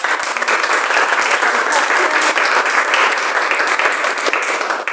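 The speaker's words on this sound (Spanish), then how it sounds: "Un aplauso para ella, por favor." Audience at a literary reading event in Paraguay breaks into steady, dense applause, many hands clapping together at close range with a few voices mixed in, sustained throughout.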